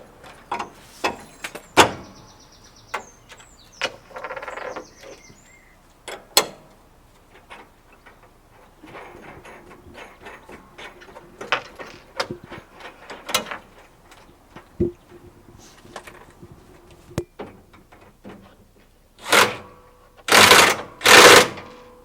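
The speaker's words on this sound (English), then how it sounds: "all we've got to do is put the bracket over, bolt underneath" Bolting a bracket underneath a sheet pile capping beam form, with sharp metallic clicks and ratcheting taps spread irregularly through the clip and a louder run of power-tool bursts at the end.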